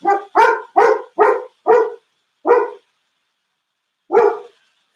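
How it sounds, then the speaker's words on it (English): Coco the dog barks nearby and loudly, a quick run of five sharp barks, then one more after a short gap and a final bark after a longer pause. "and of course, Coco is barking"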